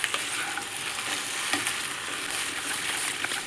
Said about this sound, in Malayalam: ഒരു സ്പൂൺ എണ്ണ ഒഴിച്ച് കൊടുത്ത ശേഷം നമ്മുടെ വെണ്ടയ്ക്ക ഇതിലിട്ട് കൊടുക്കാം